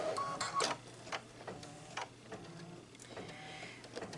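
Embroidery machine stitching a snowball design, heard as a quiet, steady mechanical ticking and whirring with a few louder clunks near the start.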